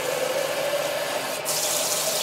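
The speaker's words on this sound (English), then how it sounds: "now we're just going to give them a drink of some cold water. Give them one rinse and then drain them" Cold water runs steadily into a jar of sprouting lentils for a rinse, a close, continuous splashing rush from a tap with no talk.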